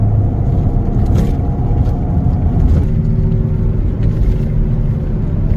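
A car with a bad rear wheel bearing while driving, a constant low rumbling drone and whir under road noise from inside the cabin, steady with a slight shift in pitch midway.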